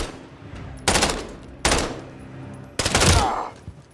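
Machine gun fire in the video game Call Of Booty comes in three loud, close bursts, each a rapid rattle lasting under a second, separated by short quiet gaps.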